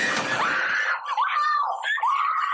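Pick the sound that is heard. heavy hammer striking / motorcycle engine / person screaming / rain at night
person screaming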